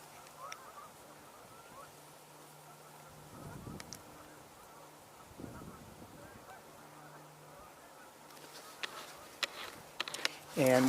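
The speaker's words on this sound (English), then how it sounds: "And we're hearing Canada geese out there." Distant Canada geese honk intermittently over a steady outdoor background, with talking partly audible alongside.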